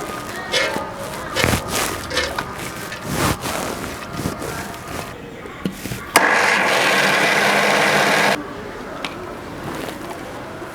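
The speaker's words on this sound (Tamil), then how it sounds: "உளுந்து வந்து சூடு ஆறிடுச்சு, நம்ம அரைச்சி எடுத்துக்கலாம்." A mixer grinder grinding boiled urad dal whirs loudly and steadily for about two seconds, bracketed by clattering handling noises before and after.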